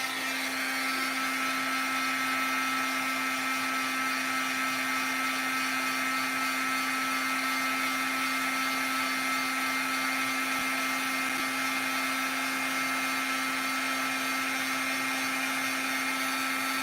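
A heat tool blows steadily over embossing powder on a stamped card piece, giving a continuous, even whirring hum of fan and heater, close and unbroken, with no talking.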